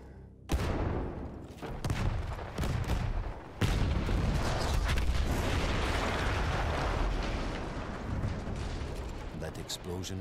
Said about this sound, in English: That explosion was one of the sweetest sights of the war for me